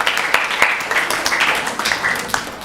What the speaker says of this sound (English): Please give her an extra special round of applause.